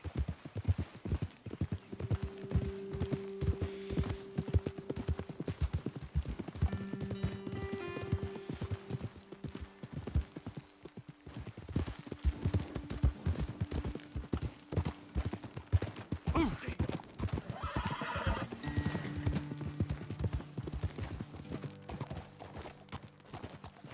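Several horses trot in Red Dead Redemption 2 with rapid, overlapping clip-clop hoofbeats, occasional whinnies and ambient game sounds around them.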